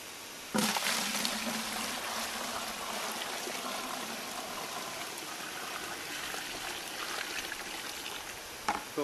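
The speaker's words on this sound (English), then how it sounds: "fill the bucket back up to that line so that we have equal amounts in both buckets" Water pours steadily into a bucket while fertilizer solution is mixed, a continuous close splashing gush that starts abruptly and runs unbroken for several seconds with no voices.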